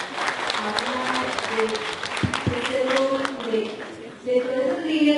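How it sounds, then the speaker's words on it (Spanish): Audience applause at an education event in Pasto, Nariño, a steady wash of clapping lasting several seconds with speech-like voices mixed in. "La recibimos con un aplauso"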